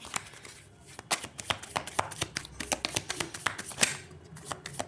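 A deck of tarot cards is shuffled by hand and several cards slip loose. The soft, rapid papery flicks and taps come close and steady, with no voices.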